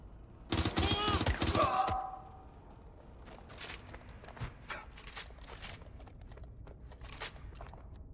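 Watch Dogs: Legion enemy gunfire: a loud burst of rapid shots, followed by a scattering of sparser, fainter shots and movement sounds.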